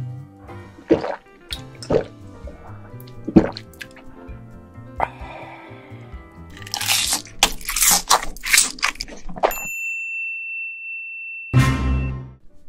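Live Dokdo shrimp and spiny lobster being eaten up close, with sharp crunches and wet squishing bites, drippy liquid sounds and a quiet hum, ending in a loud close crunch.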